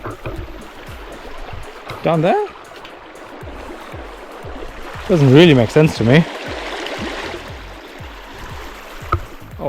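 Water spills steadily from a spout beneath a footbridge on a hiking trail, a continuous outdoor rush running through the whole stretch while people talk over it.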